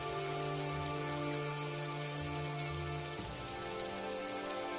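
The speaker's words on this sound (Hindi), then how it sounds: "गोपी बारिश रुकने तक वहीं ठहर जाता है।" Steady rain falls on a surface, a dense continuous hiss of drops with no pauses, alone and at an even level throughout.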